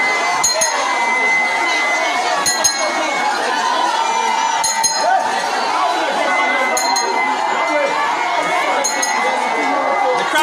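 A large crowd of protesting women gathers outdoors in a Maryland county, a dense steady murmur of many voices with scattered shouts and occasional sharp clinks cutting through at regular intervals.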